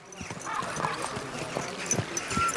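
Horse hooves clip-clopping in a steady rhythm in Kingdom Come: Deliverance 2, fairly close and moderately loud, with a faint whinny mixed in under a soft talking voice.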